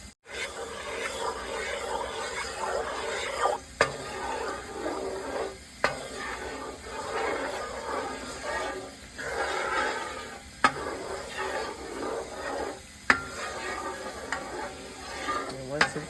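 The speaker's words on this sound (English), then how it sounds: "give it a stir." Butter and cooking oil sizzle steadily in a pot while being stirred, with occasional sharp utensil scrapes and clicks against the metal over about sixteen seconds.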